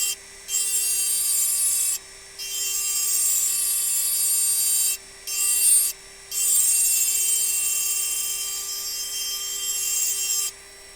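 Rotary burr engraving a crystal glass tankard, a steady high-pitched grinding whine with a constant motor hum, cutting in long passes separated by short pauses, close and fairly loud with no talking.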